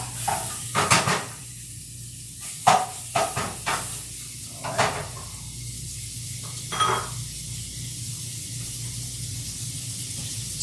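Chicken sausage being cut up with a utensil in a pan with olive oil, irregular scraping and clinking knocks in bursts over a soft steady sizzle, no talking.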